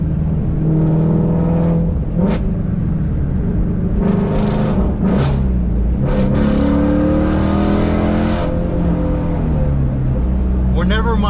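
A Ford Mustang GT350 V8 revs and accelerates in loud, rising and falling waves, engine pitch sweeping up several times with brief sharp bursts, close and dominant throughout the clip.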